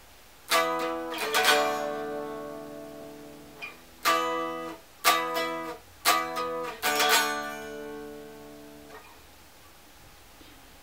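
Chorus of a song strummed on guitar in a lesson, bursts of ringing chords in short groups with brief gaps, clear and close with no voice.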